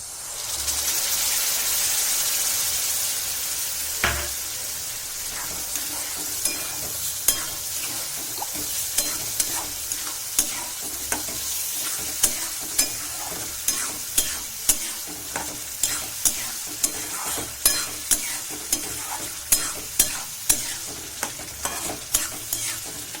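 A paste of tomato, ginger, garlic and cashew fries in oil in a pan with a loud hiss that settles into steady sizzling. Repeated sharp scraping strokes from stirring come at an irregular rhythm, close and alone.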